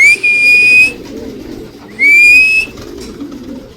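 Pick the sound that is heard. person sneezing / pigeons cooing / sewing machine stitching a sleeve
pigeons cooing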